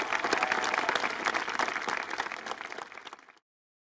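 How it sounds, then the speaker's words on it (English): A crowd at the Grenfell Silent Walk one-year remembrance gathering gives a warm round of applause, dense and steady for a few seconds before thinning and stopping abruptly into silence. "Please give a warm round of applause for Shamaya, Naila and Sakina"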